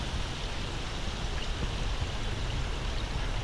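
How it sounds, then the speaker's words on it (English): Water streaming steadily through a woodland, a continuous broadband rush and trickle close by with no voices, even and unbroken throughout. "a lot of water likes to flow through here"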